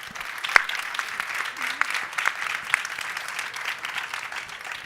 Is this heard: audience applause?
yes